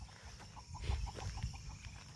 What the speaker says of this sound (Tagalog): Uy, merong mga manok sa taas